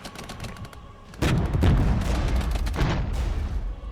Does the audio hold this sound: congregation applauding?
no